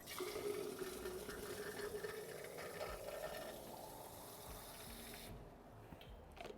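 Water runs steadily from a kitchen tap into a glass, a continuous close rush with a rising filling tone, stopping near the end.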